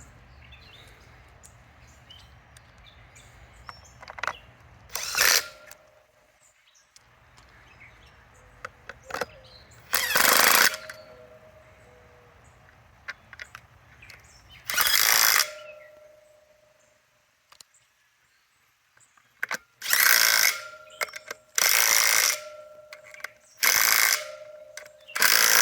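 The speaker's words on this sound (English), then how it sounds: "Walt, grab the bolts and put them in." Bolts being fastened on a Hayward Super Pump motor with a ratchet, bursts of quick clicking ratchet strokes repeated several times, close and fairly loud, separated by quiet pauses with faint handling noise.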